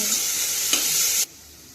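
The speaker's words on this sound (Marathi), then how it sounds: "दोन मिनिटं फ्राय करायचं।" Green chillies fry in hot oil in a pan for masale bhat. A loud, dense sizzle with one stirring knock cuts off abruptly after about a second, leaving near silence, with no speech.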